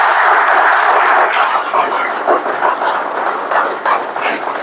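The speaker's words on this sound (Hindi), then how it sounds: "तो एक बार जोरदार तालियां हो जाए।" Loud, dense applause from an audience at a talk on magnetic energy and magnetic mattresses, steady for several seconds before thinning slightly toward the end.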